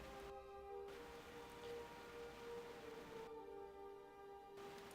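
Steady rain ambience in the World of Warcraft game world, a constant even hiss of falling drops with no pauses, heard behind faint game tones and soft background music.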